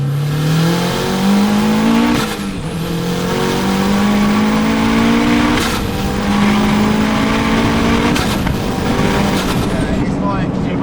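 A 430hp turbocharged Mini Cooper accelerates hard with non-flat-shift gear changes, its loud engine note climbing in pitch and breaking off at each shift, three clear upshifts in a row, with voices faintly underneath.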